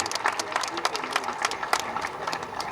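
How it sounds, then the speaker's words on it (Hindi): An audience claps at an Urdu conference, with scattered, uneven applause and light crowd noise, moderately distant and brief. "भरपूर तालियां"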